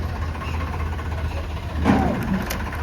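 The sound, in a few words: tractor engine running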